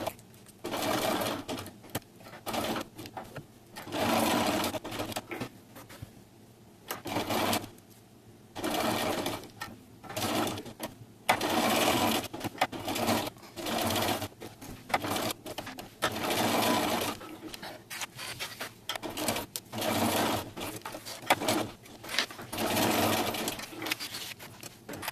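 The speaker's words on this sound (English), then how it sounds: "I'm going to sew 1/4 inch from the edge, a basting stitch around here" A sewing machine runs a basting stitch a quarter inch from the edge of a fabric baby bib, whirring steadily and fairly softly in long runs broken by short stops, with no voices.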